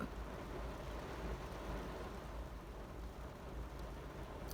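Rain falls on a car during a drive, a steady, faint broadband hiss with low rumble from the vehicle, continuous and even throughout, with no voices.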